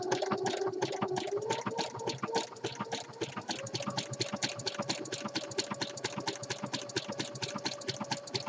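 Sewing machine running fast and steady while top stitching fold over elastic onto the raw edges of a jockstrap pouch, a continuous rapid mechanical clatter with a humming motor tone throughout.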